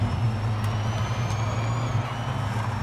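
A car engine in Forza Horizon 5 holds a steady, loud drone with strong low rumble, running continuously throughout without any voices.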